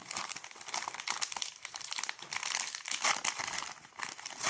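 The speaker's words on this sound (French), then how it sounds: "on va découper, prédécouper des bandes de plâtre" Plaster bandage strips being cut and handled give close, quiet crinkling and papery rustling in irregular bursts, with no voices.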